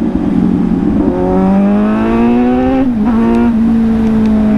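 A Triumph Daytona motorcycle engine revs loud and close, its pitch climbing steadily through a sustained rev, dipping briefly, then holding a high steady drone.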